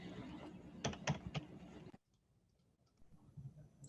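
A few quick, sharp clicks from a computer mouse, close by, over a low background hum, followed by near silence.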